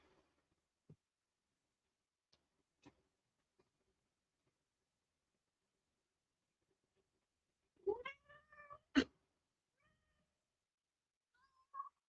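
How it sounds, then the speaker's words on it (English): A cat meows in a short, close cluster of wavering cries, followed later by one brief faint mew, with near silence and small ticks in between. "the mic like never picks Baldur's meowing up"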